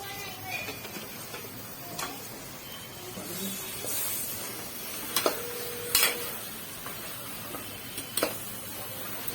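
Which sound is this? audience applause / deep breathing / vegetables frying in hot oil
vegetables frying in hot oil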